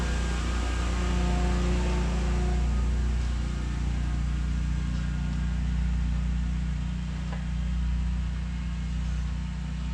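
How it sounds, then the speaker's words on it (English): A lawn mower cuts the neighbors' grass outdoors, giving a steady, distant engine drone that holds without a break. "The neighbors are getting their grass cut."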